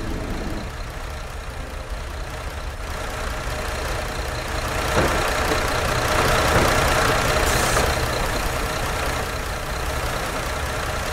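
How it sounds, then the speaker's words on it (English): A coach bus engine idles in the Fernbus Simulator game, a steady, even mechanical drone that swells slightly midway and continues without talk. "Might turn the engine off, leave it ticking over."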